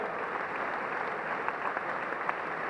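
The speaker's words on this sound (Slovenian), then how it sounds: "še en aplavz si zaslužijo prav gotovo vsi" Steady applause from an audience at a sports awards ceremony for athlete of the year, an even wash of many hands clapping at moderate distance, continuous and without voices.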